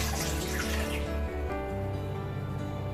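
Two cups of warm water run into a mixing bowl for homemade pizza dough, a steady splashing pour that thins out and quiets midway through.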